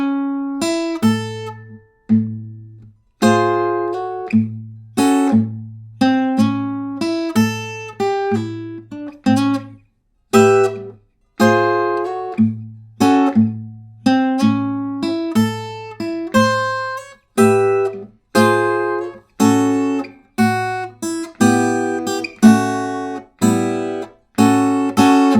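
An electric or acoustic guitar plays a slow blues call-and-response pattern using Western swing chords, alternating strummed chord hits on strong beats with short single-note phrases, clear and close with brief pauses.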